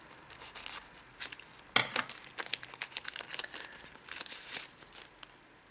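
Crinkly paper and heavy tape are torn and crumpled in quick, close bursts as a gift package from a Japan Expo is opened, with sharp rips amid rustling.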